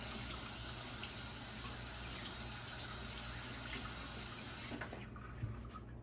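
A kitchen tap gushes steadily over napa cabbage and romaine lettuce leaves being rinsed piece by piece, then the flow cuts off near the end, leaving faint handling sounds.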